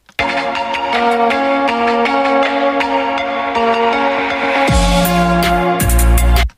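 A full instrumental backing track plays steadily with layered harmonic tones and percussive hits, shifting to heavier bass near the end before cutting off.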